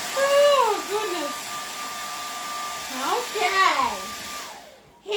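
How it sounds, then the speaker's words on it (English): A hair dryer blows steadily during an acrylic painting session, giving a constant whirring hum with a thin whine, while someone talks over it in animated, sing-song tones. "Hair dryer."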